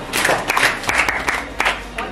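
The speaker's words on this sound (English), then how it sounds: "Okay, let's clap for her." A group claps at a breast cancer awareness talk during a Miss Muslimah Ghana humanitarian project. The clapping comes in short, uneven bursts, close and fairly loud.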